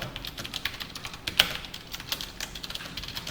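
Java code is typed on a computer keyboard during a programming lesson: quick, irregular keystroke clicks close to the microphone, with one sharper tap partway through and no talking.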